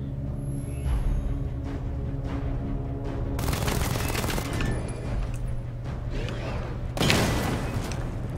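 Batmobile weapons blasting targets in Batman: Arkham Knight, a steady rumble of rapid cannon fire with two heavy explosive bursts swelling over the top, loud and busy with no talk.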